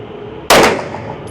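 A single sharp pistol shot from a CZ Shadow 2 Target firing Sellier 115 grain ammunition at a range, loud and close, with a short decaying tail over a quiet background.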